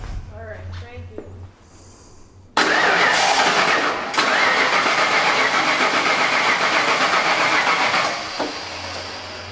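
A 1989 Ford F-150 with a fuel-injection fault cranks and catches, its engine roaring up loudly and running steadily close by, after a brief quiet start with some talk.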